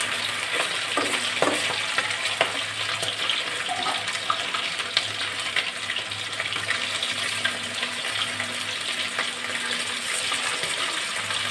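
Food for fried rice and chilli chicken fries in oil with a constant, close sizzling hiss, occasional small clinks and crackles scattered through the long, even stretch.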